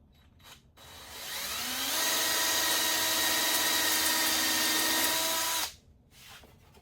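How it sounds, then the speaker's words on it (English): A power drill whines up and runs steadily at high speed for several seconds while drilling through wood, then cuts off abruptly. "Raise that up and I drill through."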